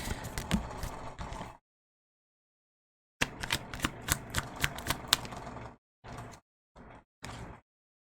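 Tarot cards being shuffled and riffled from a deck in close bursts of rapid papery flicks and taps, separated by short silent gaps, with no voice.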